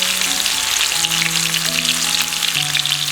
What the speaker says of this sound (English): At a time you can fry 2 to 3 leg pieces. Do not overcrowd, otherwise it will not fry nicely.